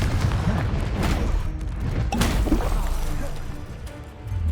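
Spell-casting blasts from the Hogwarts Legacy video game: several loud booming, crackling explosive bursts with a sharp hit near the middle, over continuous rumbling game sound and a steady low roar.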